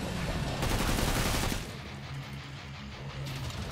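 Dense, rapid gunfire from an FAL rifle in the video game Killing Floor 2 roars for about a second and a half, then drops to a quieter, rumbling background of game noise.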